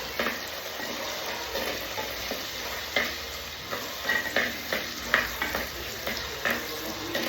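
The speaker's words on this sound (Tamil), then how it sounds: "இதை நல்லா சின்ன வெங்காயத்தை நல்லா வதக்கிடலாம்." Small onions with garlic and curry leaves fry in oil for a dried-fish curry, a soft constant sizzle with periodic scraping stirs and light utensil clicks against the pan, close and moderately quiet.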